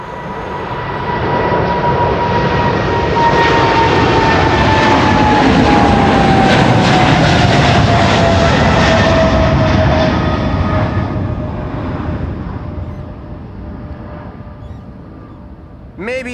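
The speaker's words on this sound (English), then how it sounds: "Maybe I'm just imagining things, but the RPM does sound a little lower. Probably was a derated takeoff." Qatar Airways jet climbing out on a derated takeoff at Amsterdam Schiphol Airport, a loud sustained engine roar with a falling whine that swells, holds for many seconds, then gradually fades into the distance.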